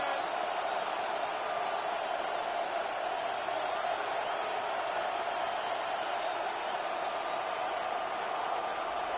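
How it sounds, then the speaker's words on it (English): Steady stadium crowd roar from an EA Sports NFL video game broadcast, a continuous dense wash of noise at constant loudness with no distinct voices standing out. "This crowd into it now as we get to third down."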